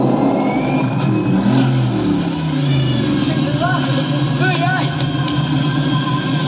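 A supercharged Holden VF Commodore engine revs loudly, with a broad roaring rumble that stays steady and dense across the clip.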